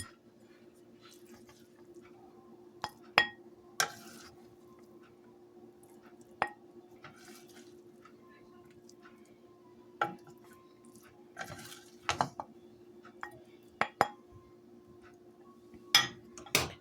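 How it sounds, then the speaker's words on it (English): A casserole dished up into a bowl, with scattered clinks of a serving spoon against the dish and bowl and soft wet squishes, close and fairly quiet over a steady low hum, no voices. "And I'm going to dish up a bowl."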